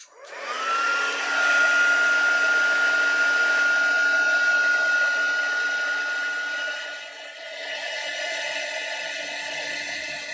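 A handheld heat tool blows steadily while heat setting a craft journal, a loud, even whirring hum with a high whine that drops slightly near the end before continuing.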